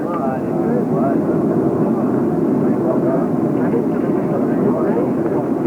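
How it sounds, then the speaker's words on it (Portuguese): Inside an airliner readying for takeoff, a steady engine drone and cabin rumble run continuously at moderate level, with faint voices mixed beneath. "Atenção, tripulação, preparado para a decolagem."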